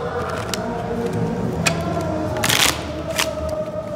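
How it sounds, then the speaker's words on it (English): A borrowed deck of playing cards being shuffled, with quick crisp riffling bursts and sharp snaps scattered over a low steady background, the loudest riffle near the middle. "shuffle the heck out of those cards"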